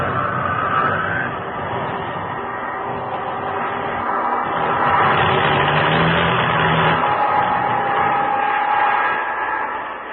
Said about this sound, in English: Engine trouble.